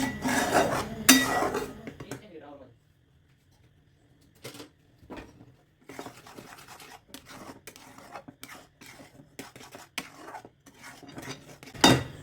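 A spatula scrapes and knocks against a pan while cashew katli mixture is stirred, giving irregular scraping strokes and clinks. Heavier clatter opens and closes the passage, with a quieter gap between.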